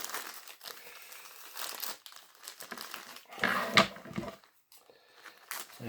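Plastic wrapping crinkles and crumples as a heavily protected package is torn open; quiet, close rustling comes in irregular bursts with one louder crunch midway and a brief pause.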